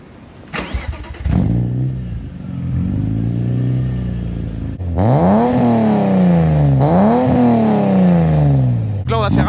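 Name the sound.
BMW M3 E36 engine starting and revving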